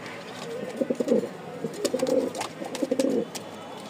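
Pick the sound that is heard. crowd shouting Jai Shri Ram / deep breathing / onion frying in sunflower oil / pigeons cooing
pigeons cooing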